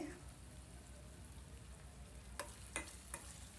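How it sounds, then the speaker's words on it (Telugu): Finely chopped tomato pieces and curry leaves fry in a pan with a soft, continuous sizzle, faint and close, broken near the end by three sharp scraping clinks of a stirring spoon; no one speaks. "రెండు రెమ్మల కరివేపాకు ఈ టమాటా ముక్కలు బాగా ఏగనిచ్చి"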